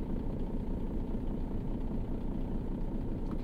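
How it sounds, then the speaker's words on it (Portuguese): A truck engine idling in the video game On The Road on PlayStation 5, a steady low rumbling drone that stays even and continuous throughout with no talking. "o som do motor agora"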